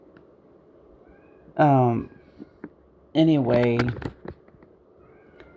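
Two loud, close cat meows, the second longer and more drawn out, separated by a short pause, with brief talking and light clicks around them in a quiet room.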